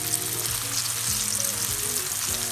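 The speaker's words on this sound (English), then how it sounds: "fry until golden brown" Crusted lobster frying in oil sends up a dense, continuous bubbling sizzle that stays even throughout, close and fairly loud.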